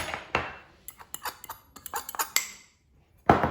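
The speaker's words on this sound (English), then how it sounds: "And stir that up. And use a spoon if the fork gets kind of hard." A fork clinks and scrapes against a bowl while stirring dry flour, sugar, cocoa, baking soda and salt for a wacky cake, in quick irregular metallic taps with short pauses between them.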